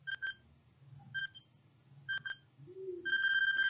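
Electronic countdown timer beeping in short paired bleeps, three pairs about a second apart, ending in a longer sustained tone, clear and close over a faint low hum.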